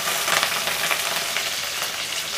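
Green chillies and curry leaves sizzle steadily in hot oil in a pan for upma, a loud, close, continuous crackling fry with no voices.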